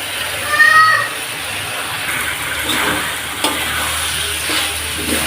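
Masoor lentils tipped into a pan of spiced potatoes frying in oil, giving a bright burst of sizzling that settles into a steady hiss with occasional stirring scrapes, close up.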